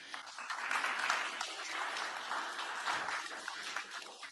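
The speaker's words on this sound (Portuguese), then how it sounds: "Uma salva de palmas, por favor, seria ótimo." Applause from an audience at an event with Sara Netanyahu and Paula White-Cain coming onstage, a soft, diffuse patter of many hands, steady and somewhat distant throughout.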